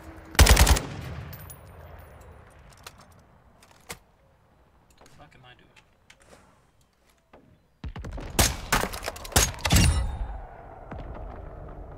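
Machine-gun bursts from enemies firing down from a tower in the shooter DMZ: a loud volley at the start, scattered quieter shots, then a dense run of heavy bursts near the end.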